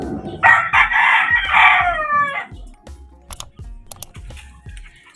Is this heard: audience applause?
no